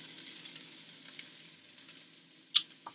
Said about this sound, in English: Add a little oil to the pan, and then your onions and peppers.